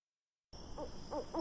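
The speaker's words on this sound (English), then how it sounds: "just an owl." An owl hoots a few times in a game sound effect from a vampire-themed escape room, starting after a half-second of silence, soft and distant over a faint steady hum.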